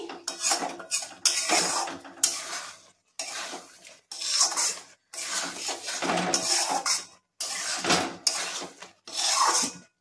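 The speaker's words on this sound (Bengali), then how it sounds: "আমি ভালো করে মিশিয়ে নেব তরকাটাকে। আমি মিশিয়ে নিচ্ছি।" Egg tadka being stirred in a pan, close metallic scraping and clinking of a spatula in bursts of about a second, separated by brief pauses.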